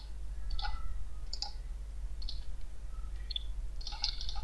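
Username typed on a computer keyboard while setting up a WordPress site on 000webhost; a few sparse, light key clicks over a steady low hum.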